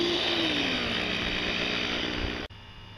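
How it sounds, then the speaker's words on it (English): A power drill driving screws into 2x lumber for a bench whirs loudly and steadily for a few seconds, then cuts off abruptly, leaving a quieter background. "Take the drill"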